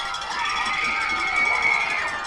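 A basketball crowd at a Soddy Daisy versus Hillsboro high school game roars in a steady, loud, sustained cheer after a score, filling the gym with a dense wash of voices.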